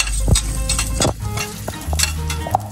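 Ingredients for homemade Tom Yum soup sautéing in a pan, a continuous close sizzle broken by a few soft stirring scrapes and light clinks of a utensil, with no talking.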